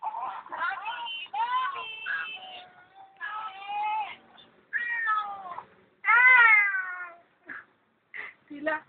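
Someone mimics a cat meowing in a string of nasal, wavering meows and mews, close and moderately loud, with short pauses between cries.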